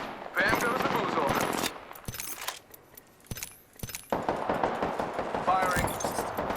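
Automatic weapon fire in the Apex Legends video game, several bursts of rapid shots with short pauses, loud and near, mixed with other game effects.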